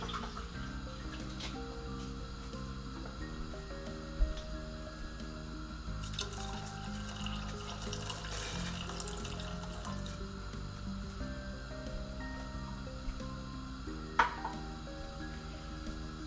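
Tap water runs steadily into a cooking pot while making shrimp sinigang, a continuous close rushing stream that carries on for the whole stretch beneath ongoing background music, with no talking.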